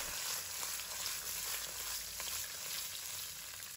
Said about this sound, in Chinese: 煎鱼头我们是中火来煎制，让它可以快速的锁住水分。